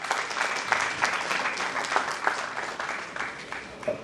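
An audience at a literature festival in Banaras applauds steadily for about four seconds, a dense, even clatter of many hands held at a constant level throughout.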